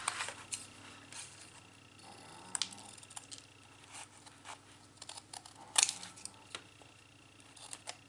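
Scissors cut paper for a scrapbook layout, trimming paper sun rays in a run of faint, close snips and small clicks against a quiet room hum.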